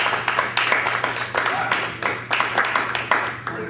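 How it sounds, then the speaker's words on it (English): Audience applause at an open mic night in a library, a small crowd's uneven individual claps with distinct sharp hits, fairly close and moderately loud. "Give him a nice round of applause"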